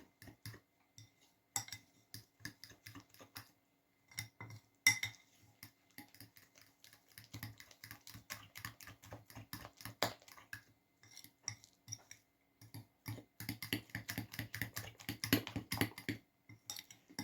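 Rapid irregular clinking of a whisk or utensil beating batter in a bowl, bursts of quick taps with short pauses, growing busier near the end; quiet and close.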